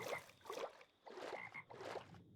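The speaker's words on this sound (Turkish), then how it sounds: "Bak kurbağa var." Frog croaking in the video game RLCraft, four evenly spaced croaks in a quick rhythmic series, fairly close and clear with nothing else behind them.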